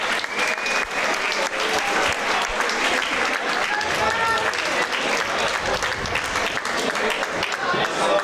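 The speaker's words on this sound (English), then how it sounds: "please a massive round of applause for two fantastic competitors" Loud, sustained applause from a large crowd at a combat sports event, steady and continuous throughout.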